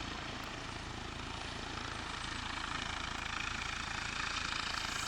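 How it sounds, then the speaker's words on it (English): A helicopter coming in to land drones steadily nearby, a loud continuous rotor roar with no talking. "is this helicopter coming into land on here?"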